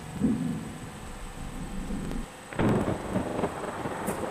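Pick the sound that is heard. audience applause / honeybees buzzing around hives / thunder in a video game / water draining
thunder in a video game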